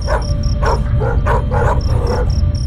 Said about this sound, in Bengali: বহু দূরে একটা কুকুরের অশ্রান্ত চিৎকার।